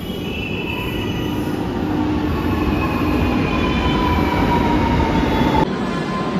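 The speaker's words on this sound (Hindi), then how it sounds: "मेट्रो का सफर करके तो मजा आ गया" Lucknow metro train ride heard from inside the car, a loud, continuous rumble of wheels on rails with steady whining tones and a faint squeal, no talking.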